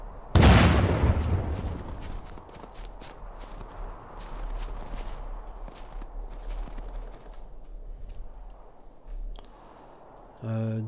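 An explosion in the survival game Unturned booms loudly and close, then fades into a long rumbling tail with scattered crackles, and a voice talks during the decay.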